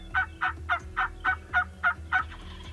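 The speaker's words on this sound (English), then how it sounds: "They slowly worked their way towards us, slowly, and were strutting and gobbling and putting on a good show for us the whole time." Wild turkey gobblers gobbling in open country during a spring archery hunt in Kansas, eight rhythmic gobbles in a steady run at close to middling range, loud and clear over low background rumble.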